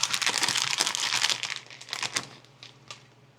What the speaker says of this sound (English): I'll get a piece of foil and cover that up